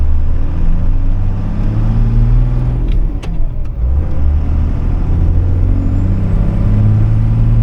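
A 1995 Ford F350 dually 4x4 truck with a converted Cummins 12-valve diesel engine drives with a steady, loud low rumble, and its hard gear shift shows as a brief dip and clunk midway through.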